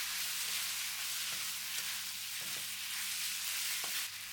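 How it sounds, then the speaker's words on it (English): Marinated beef sizzles steadily in a hot pan for a Vietnamese banh mi, loud and close, with a few light scrapes and knocks of stirring. "Put the marinated beef. Stir for 1 minute."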